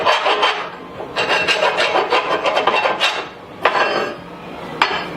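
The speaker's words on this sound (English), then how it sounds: "What we're going to do now, deburr the inside just" Deburring tool scraping the inside edge of a freshly cut metal link bar tube, giving a steady rasping scrape in repeated strokes, close and fairly loud, with a few sharp metallic clicks near the end and no talking.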